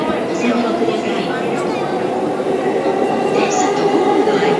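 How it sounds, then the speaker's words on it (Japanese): A local train bound for Tsudanuma pulls into a platform at JR Yoyogi Station, its steady rumbling rolling noise filling the clip at close range with faint wheel squeal, under broad station ambience. "まもなく4番線に各駅停車津田沼行きが参ります"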